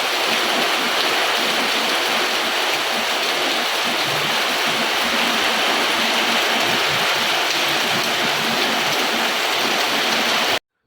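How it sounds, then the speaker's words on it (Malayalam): Heavy, incessant rain pours down beside a flooded, overflowing river whose water has spread over the fields, making a loud, constant roar that stops abruptly at the very end. "തുള്ളി തോരാതെയുള്ള മഴയാട്ടോ"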